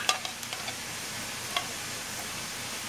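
A spoon scrapes condensed soup from a can into a casserole dish with a few sharp metallic clinks and soft wet scraping, quiet and close.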